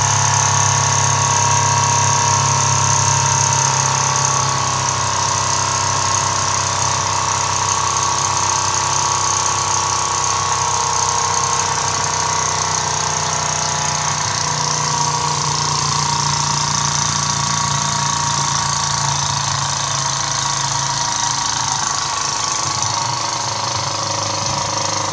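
A Mamod Brooklands Roadster toy steam engine runs steadily with a continuous mechanical hum and rattling chug, a fairly loud, unchanging drone that tapers slightly near the end as its fire dies out.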